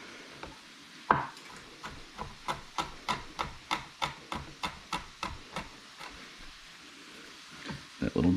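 Kitchen knife roughly chopping smashed, peeled garlic on a board: about a dozen crisp, evenly spaced thuds in a quick run, close and clear, followed by a quieter pause and a few scraping sounds.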